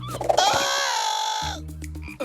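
Cartoon frog croaking in a long, drawn-out call that sweeps steadily for about a second, framed by short bursts of music before and after, with no talk over it.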